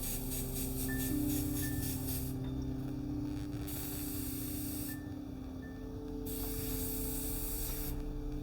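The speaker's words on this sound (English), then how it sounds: "let me give it a spray through so we can make sure the paint's kind of coming out there" A steady hiss from an Iwata Custom Micron SB airbrush spraying paint runs throughout, pausing briefly twice, with a faint mechanical whine underneath.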